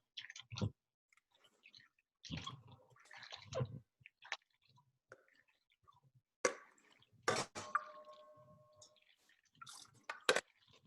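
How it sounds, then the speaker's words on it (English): Hands swish and squish soaked beans around in a bowl of water to loosen their skins, making irregular wet clicks, drips and sloshing bursts with quiet gaps between. "you just want to kind of mix it around with your hands just to loosen those skins a little bit more."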